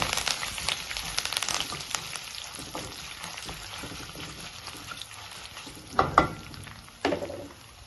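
Crushed garlic cloves and curry leaves sizzling in hot oil in a pan, a steady crackling fry with scattered pops and a couple of louder bursts of spatter near the end.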